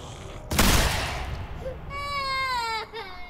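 An infant cries in The Walking Dead: A New Frontier game, a sharp wailing cry with rising and falling harmonic tones after a loud burst, close and fairly loud, with voices around.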